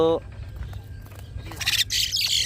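Two pet myna birds on a rooftop give harsh squawks and chirps, loudest in a bright burst toward the end, with a voice talking nearby during the calls.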